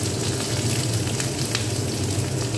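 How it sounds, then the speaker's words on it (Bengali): Chopped onion sizzling in hot sugared oil, a dense continuous crackling hiss that holds steady and loud close to the pan, with no voices. "পেঁয়াজ কুচিটা দিয়ে দিলাম"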